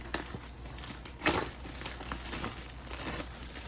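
Crinkling and rustling of a small Bat Flip Dynasty game box being unboxed, with soft irregular crackles and one brief louder tear near the middle, up close and fairly quiet.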